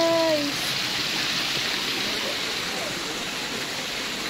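Water pours steadily into a private resort pool at a nature farm in Laguna, a continuous close rushing splash with a brief voice at the start.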